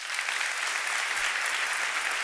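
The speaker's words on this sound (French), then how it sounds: "Est-ce qu'on peut les applaudir?" Dense, steady applause from a seated audience at a motivational talk fills the space at an even loudness throughout, a continuous wash of many hands with no speech on top.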